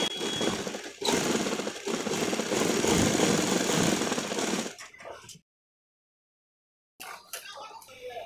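An industrial sewing machine stitches the side pocket of a pair of jeans, running loudly and continuously for about five seconds. It falls silent, then briefly starts up again, with a voice heard over the machine noise.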